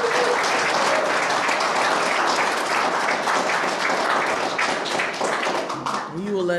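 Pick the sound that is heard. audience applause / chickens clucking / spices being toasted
audience applause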